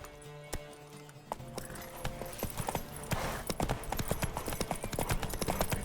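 Horse hooves clip-clopping in The Witcher 3, quick rhythmic hoofbeats growing busier and louder as the horse speeds up, with a few sharp knocks early on and no talking.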